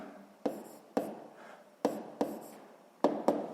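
Writing by hand on paper while working a sixth-grade geometry exercise, a handful of quiet close pen strokes and taps in irregular bursts, with no talking.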